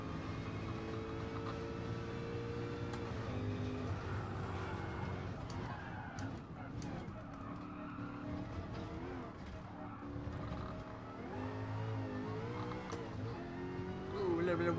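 A Sauber Mercedes C9 race car in GT Sport, nearly 1,000 horsepower, circling the Circuit de la Sarthe: a steady, fairly faint engine drone that rises and falls with gear shifts.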